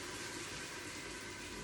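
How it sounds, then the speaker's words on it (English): White wine is poured into a hot multi-cooker pot while making broccoli soup, giving a loud, steady hiss and sizzle. The sound is close and continuous throughout, with no voices over it. "So 1/2 cup of white wine going in. It's gonna sizzle."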